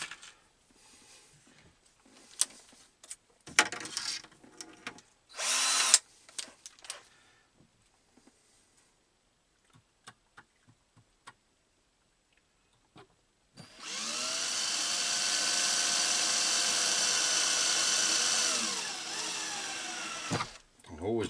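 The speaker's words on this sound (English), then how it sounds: "I always like to drill this because it's Formica," A power drill bores through a Formica surface while a camper van bed is being built. Scattered knocks and handling noises come first, then a long, loud, steady drilling whine lasts several seconds. Someone speaks briefly.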